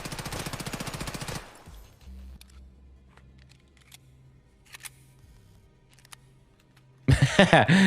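An MP7A1 submachine gun fires in Escape from Tarkov: a loud, rapid automatic burst opens, followed by a quiet stretch with faint clicks, then another hard burst of fire at the end.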